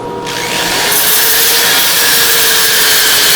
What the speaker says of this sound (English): I think I need some new sandpaper.